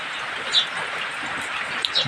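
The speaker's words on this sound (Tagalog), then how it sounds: "Kailan kaya titigil itong ulan na ito" Rain falls steadily on a morning after a week of wet weather, giving a continuous soft hiss with a few faint drop-like ticks. No one speaks.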